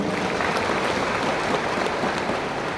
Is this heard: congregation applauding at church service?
yes